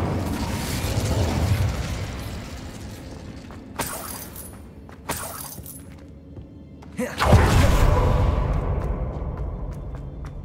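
Incendio fire spell cast in Hogwarts Legacy, a sharp crackling burst followed by a loud whooshing, roaring blaze that slowly fades, after a couple of brief snapping hits over a low rumbling background.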